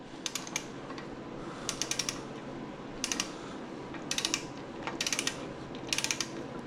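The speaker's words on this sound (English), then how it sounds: "so let's go and get this torqued." A ratcheting torque wrench tightens bolts on the bottom end of a rebuilt Chevrolet 350 small block V8, giving close, crisp bursts of rapid clicks at a steady rhythm with short pauses between strokes.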